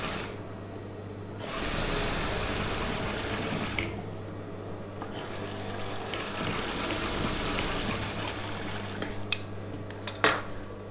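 An USHA sewing machine hems a Patiala pant, whirring in long stitching runs with brief pauses between them, close by, with small metallic clicks near the end.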